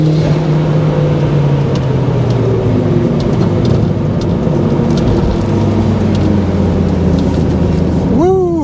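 A turbocharged car accelerating hard under boost, heard from inside as a loud, rising engine drone with pitch sweeps climbing over the stretch, blended with road and rain-like wash.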